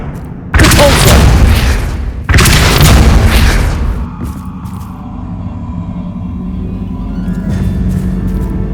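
Repulso spell cast in the Hogwarts Legacy video game: two heavy, booming magical blasts in quick succession, each loud and broad, followed by a lingering low rumble that fades under a soft background hum.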